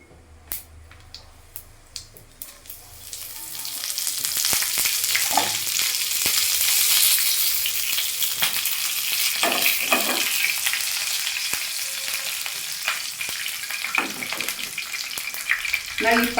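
Andhra-style stuffed eggplant curry with curry leaves sizzles and crackles in hot oil in a pan, loud and close, with scraping stirring strokes and someone talking quietly at times.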